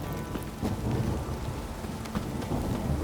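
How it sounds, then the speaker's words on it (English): In The Witcher 3: Wild Hunt, steady rain pours while low thunder rumbles through it, a soft, continuous wash with no voices. "If it don't stop raining, my arse will rot off."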